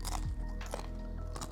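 Close, crunchy chewing of melted filling from a bear claw pastry, a few quick bites and moist mastication sounds in a short burst.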